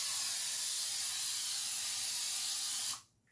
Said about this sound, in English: we're going to spray it with some of this. It's a non-stick spray